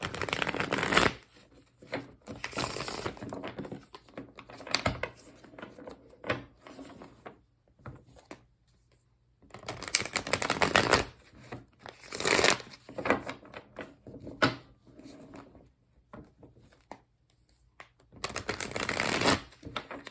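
Light Seers Tarot deck being shuffled by hand, rustling riffles and card slaps in several long bursts with quiet gaps between them, close and moderately loud, with no speech.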